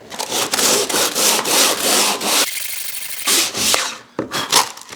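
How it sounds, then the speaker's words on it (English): Sandpaper is rubbed by hand back and forth across the butt joint of wooden crown molding, a close, rhythmic scratchy rasp in quick strokes with a brief pause partway through. "again we get the sandpaper out, and I just want to get a little bit right"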